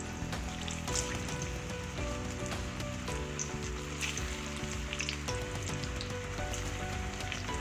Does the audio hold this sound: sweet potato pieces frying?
yes